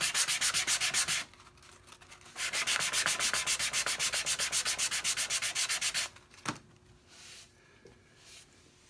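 A clamp mark is rubbed out of the finish on a wooden step stool with rapid back-and-forth strokes, close and rhythmic, in two long bursts separated by short pauses.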